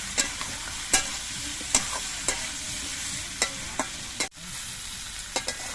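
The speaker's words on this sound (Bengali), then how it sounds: "এবার মশলাগুলো দিয়ে কিছুক্ষণ কষিয়ে নেবো" Turmeric, dry chilli and cumin powders sauté in a pan for a cucumber, coconut and prawn dish, a soft steady sizzle broken by sharp clicks and scrapes of a stirring spoon, with one brief dropout.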